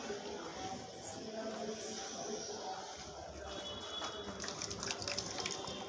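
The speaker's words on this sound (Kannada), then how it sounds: "ಬಟ್ಟೆ ನೀರು ಹಿಂಡು" Water splashes and streams from wet clothes being wrung out by hand, a faint, steady flow with small surges, while voices talk nearby.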